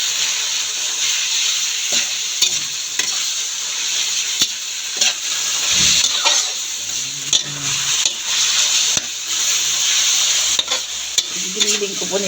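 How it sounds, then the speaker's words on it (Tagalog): Ground pork frying with garlic in a pan, a loud, steady close sizzle with repeated scraping stirs and clinks of the utensil against the pan. "Lagay po natin yung karne. Yung giniling."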